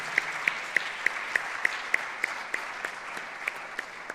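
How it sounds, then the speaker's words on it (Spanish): A church conference audience applauds at moderate distance, steady clapping with a few sharp, evenly spaced louder claps standing out above it. "denle un aplauso al Señor por lo menos"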